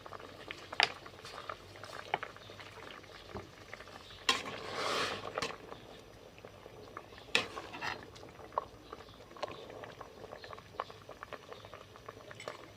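Gourd and mushroom curry cooking in a pot as fish sauce is added: a soft bubbling simmer with scattered light clinks and splashy stirring, one burst of louder stirring near the middle, no voices.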